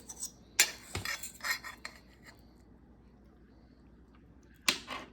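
Cutlery scrapes across a plate while cutting a toasted oatmeal omelette topped with cottage cheese and guacamole: a few close, sharp scrapes and clinks at the start, quiet in the middle, one more scrape at the end.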